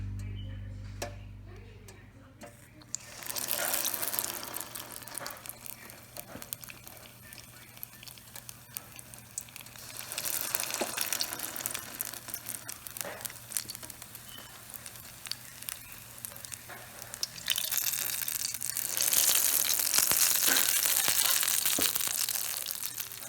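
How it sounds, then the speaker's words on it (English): Akara bean fritters deep fry in hot oil, giving a dense, continuous sizzle with scattered crackles and pops that swells louder at times, close up and steady throughout. "That is how you fry akara."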